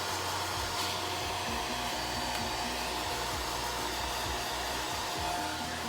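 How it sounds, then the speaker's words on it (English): A hair dryer whirs steadily at a low setting, a constant airy hum with no talking. "hair dryer. I'll put it on low and dry this up."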